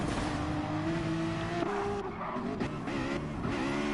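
Porsche race car in GT Sport, its engine note rising and falling through gear changes at moderate distance, with brief tire squeal, no voices.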